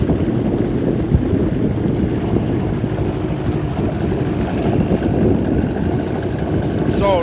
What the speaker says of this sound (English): Sorry, now it's pretty windy.